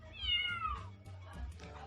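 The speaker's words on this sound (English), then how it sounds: "the sound of cat is meow" A cat meows with a rising then falling wail, a clear close call followed by a second shorter mew, heard alone without talk.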